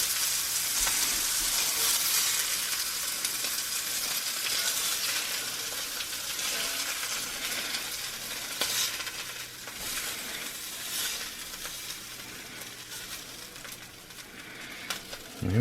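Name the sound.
spaghetti frying in a cast iron pan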